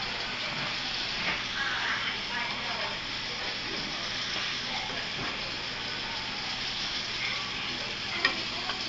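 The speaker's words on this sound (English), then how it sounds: "you should start using your Big Daddy spoon, or a spoon that's a bit bigger. But so that way you can stir it a bit more thoroughly" A big spoon stirs a dissolving mixture during a golden powder synthesis, giving a continuous busy scraping, sizzle-like wash at moderate level throughout, with no clear speech.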